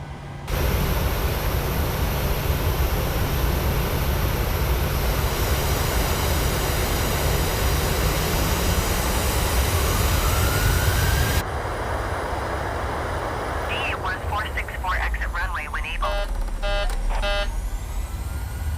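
Airliner taxiing at Melbourne in Microsoft Flight Simulator 2020: a steady, loud broadband engine roar that drops in level partway through, then continues with some shifting tonal whines and faint mechanical tones.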